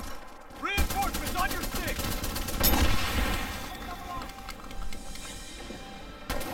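Rapid, evenly spaced gunfire from the player's weapon in the video game Titanfall 2, bursting in quick repeated shots over a continuous game soundscape, with a louder blast near the middle.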